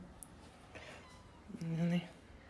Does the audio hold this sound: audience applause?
no